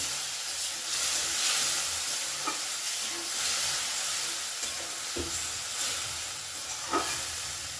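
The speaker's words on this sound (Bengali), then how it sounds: "খুব ভালো করে আলুর সাথে সব কিছু কষিয়ে নেব" Spices and potatoes are stir-fried in a pan for a rohu fish curry, with a steady hissing sizzle and occasional scraping clicks of a spatula, heard up close.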